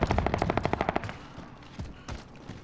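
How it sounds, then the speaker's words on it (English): Automatic gunfire in Warzone, a fast close burst of evenly spaced shots for about a second, then scattered fainter distant shots and thuds trailing off. "Taking fire."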